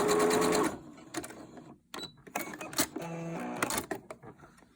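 Home sewing machine running a wider zigzag test stitch in bursts, each run a close, steady mechanical whir with short pauses and small clicks between them.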